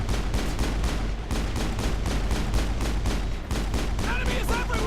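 Rapid gunfire from a firefight in the video game Mass Effect, with dense bursts of automatic shots and booming impacts continuing almost nonstop, a voice calling out briefly near the end.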